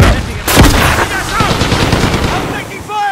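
Rapid automatic gunfire and single shots crack loudly throughout a Call of Duty Modern Warfare multiplayer match, with bursts overlapping amid game effects and brief voice callouts.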